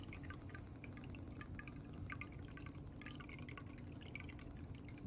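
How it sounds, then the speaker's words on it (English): Soy sauce poured gently into a chicken marinade in a home kitchen, a soft, steady liquid trickle with small drips and splashes, faint and continuous throughout. "Soy sauce, 1/2 a cup of soy sauce. So you're just gonna pour that gently in."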